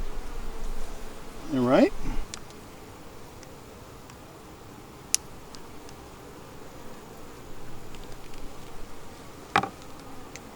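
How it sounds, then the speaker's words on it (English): Honey bees hum in a steady, dense buzz around an open hive during a queen check, with a short spoken phrase and a few faint clicks of handling. "Let's go ahead and get our bees off of there."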